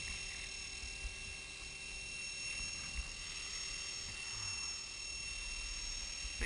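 A Blade 450 radio-controlled model helicopter flies in gusty wind, its steady high-pitched rotor and motor whine running continuously without a break, with wind noise underneath and no voices.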